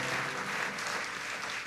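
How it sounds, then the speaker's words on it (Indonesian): A church congregation at a sermon bursts into steady, dense applause, a continuous wash of many hands clapping at once with no voices standing out. "Yang percaya kasih tepuk tangan yang paling meriah"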